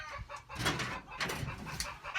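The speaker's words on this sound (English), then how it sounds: "the chickens are being talkative" Chickens cluck and chatter continuously at a low, steady level, several birds overlapping with soft, throaty calls.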